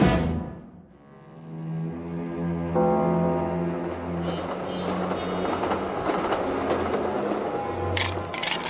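Train running on rails as a vintage radio drama effect, a steady rumbling roll with deep droning tones and rhythmic clatter that builds after a brief fade-in and continues at moderate loudness.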